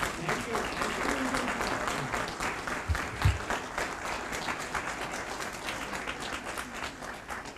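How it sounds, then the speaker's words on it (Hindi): Sustained, steady audience applause for the chief sponsors at a business coaching event, a dense wash of clapping from a large hall crowd lasting several seconds, with a voice faintly audible beneath. "हमारे चीफ स्पॉन्सर्स के लिए जोरदार तालियां"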